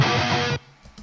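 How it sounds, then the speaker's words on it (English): Distorted electric guitar playing a harmonic part, a loud sustained chord-like phrase that cuts off after about half a second, leaving faint ringing and soft noises. "harmonic part tracked separately,"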